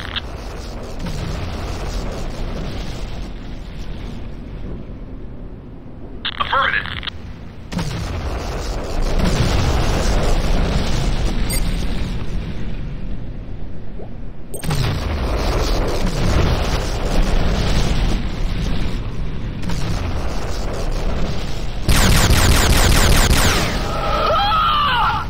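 Booms and explosions batter a GDI infantry barracks under attack in the shooter Renegade, thick and loud with dense rumbling bursts stacking up through the stretch and a sharp crackling blast near the end.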